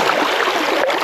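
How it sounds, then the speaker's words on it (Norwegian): A canoe glides through small river rapids on a mountain plateau river, a loud, close, steady rush of churning water. "Gleden og spenningen er stor i det kanoen glir gjennom et lite stryk."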